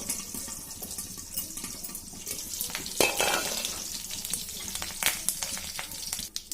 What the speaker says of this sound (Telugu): చూడండి పోపు అయితే వేగిపోయింది